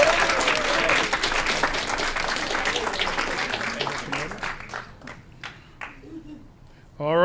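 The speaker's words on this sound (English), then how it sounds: "Big round of applause" A council meeting crowd in Aurora claps for a youth basketball coach in sustained applause that tapers into a few scattered claps as a voice begins at the end.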